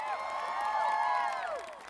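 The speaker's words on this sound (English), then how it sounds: "Can everybody please give Lily a big round of applause for the great introduction?" An outdoor rally crowd at Sloan's Lake Park in Denver cheers and whoops in a short burst, with shrill voices rising over fainter clapping for about two seconds.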